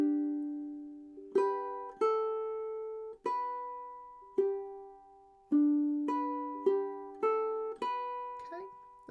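Ukulele playing a campanella-style chord melody of a song, a passage of plucked, ringing notes and chords at a moderate pace, close and clear with no talking.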